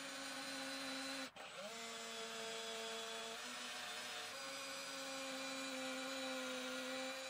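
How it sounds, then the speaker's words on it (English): Steady power drill whirring while boring screw holes for a bass guitar bridge into a custom solid body, a continuous close motor tone with a brief dip and pitch shift partway through. "Drilling for the bridge attachment screws."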